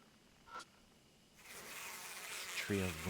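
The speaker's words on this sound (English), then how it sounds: "The buzz of bees fills the air." Bees buzzing around hives built from women's corpses in the video game Deathmark, a steady droning hum that swells after a brief quiet stretch, joined at the end by a low tonal game sound.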